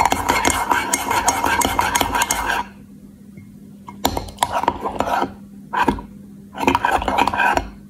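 A spoon stirs a chocolate drink in a cup with steady scraping, clinking strokes, close and fairly loud, broken by short pauses and then several brief bursts of stirring.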